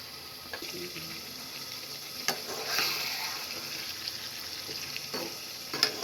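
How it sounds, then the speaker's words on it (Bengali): Potato and eggplant curry with tomato and spices fries and sizzles in the pan under a soft, steady crackle, with a few sharper scrapes and clinks as it is stirred. "মশলার সাথে ভালোভাবে মিশিয়ে নিচ্ছি"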